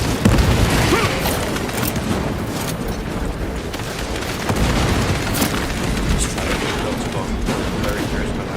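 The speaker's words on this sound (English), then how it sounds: "Frag grenade deployed." Frag grenade blasts in the game Space Marine 2: loud, booming explosions and rumbling bursts over dense battle noise, with a heavy hit near the start and more crashes throughout.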